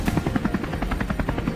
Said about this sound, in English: We quickly maneuvered the helicopter into position, ready for an intense sweep.